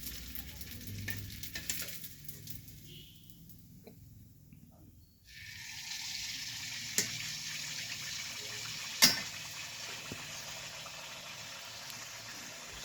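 Pitha frying in hot oil during a home pitha festival, a steady dense sizzle throughout with brief clatters of stirring and a couple of sharp knocks, at moderate volume with no talk.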